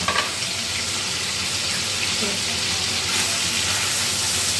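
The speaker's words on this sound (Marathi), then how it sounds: "आता ह्याला ऑइलमध्ये फ्राय करू ज्या कढाईमध्ये आपण तडका देणार आहे त्याच ऑइलमध्ये गरम करून घेते पनीरला थोडंसं परतून घ्यायचं आहे" Paneer fries in hot oil in a kadai, a loud, dense, continuous sizzle that holds steady throughout, close up, with no talk over it.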